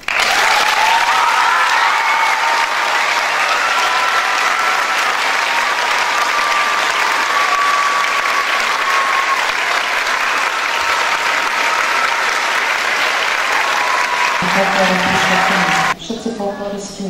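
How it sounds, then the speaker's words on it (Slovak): Sustained loud applause from the audience at a children's folklore ensemble's 50th anniversary performance, dense clapping that carries on evenly for many seconds before breaking off near the end. "asi stojí za ním veľký potlesk"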